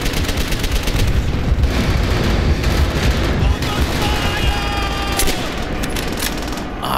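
In the World at War shooter, machine gun fire rattles in sustained dense bursts, loud and close, with other gunshots and booms layered in, and a voice talks over the battle.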